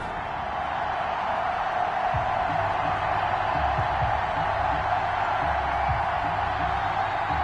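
A stadium crowd roars in a sustained wash ahead of an NFL season opener between the Tennessee Titans and Seattle Seahawks, a broad steady noise with faint scattered whoops and low thumps.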